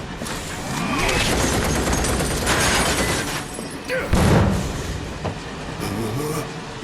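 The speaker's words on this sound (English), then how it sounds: "Need to slow the train down" Moving train in Final Fantasy VII Remake, a loud rumbling rail roar with rattling, metallic clatter and a heavy thud partway through, no voices.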